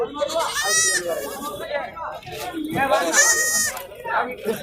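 Sheep bleat in short, strained bursts at a livestock market in Kunnathur, two clear calls heard over steady nearby talk and market bustle.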